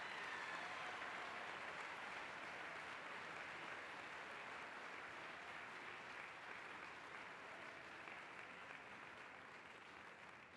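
Sustained audience applause fills an awards ceremony hall, a dense, even wash of clapping from many hands that holds steady and slowly tapers toward the end, with no talking over it.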